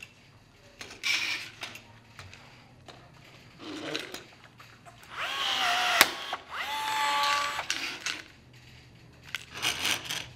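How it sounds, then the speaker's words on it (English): Pneumatic rivet gun setting flap hinges on a RANS S-21 aircraft's flaps in a home build shop: several short bursts of squeezing and rattling, some closer and louder, with quiet gaps between. "gonna rivet some flap hinges"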